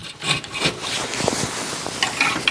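Metallic scraping and rubbing as a Toyota Supra mk4 rear brake caliper carrier slides off its disc, close and continuous for a couple of seconds with a few small knocks.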